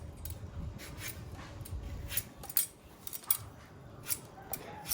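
Rex Sparschäler, a Swiss-patented swivel peeler, shaving the skin off mangoes: quiet, scratchy scraping strokes with a few sharper clicks, close and soft against a low background hum.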